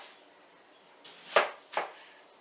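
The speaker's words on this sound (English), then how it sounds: "you're going to see me chopping up some of the onion for it" Two crisp knife strokes through onion on a cutting board, close and fairly quiet, spaced about half a second apart after a short silence, with no talking.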